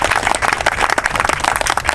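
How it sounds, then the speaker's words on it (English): Dense crowd applause at an Occupy Santa Rosa gathering on eviction day, many hands clapping steadily and loudly for the whole stretch with no voices on top. "Let's give Tanya a round of applause."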